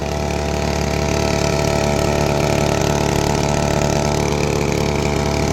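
A Mango Boat's powerful engine runs steadily at idle, a loud continuous low mechanical drone with even texture that holds unchanged throughout, with no talk over it.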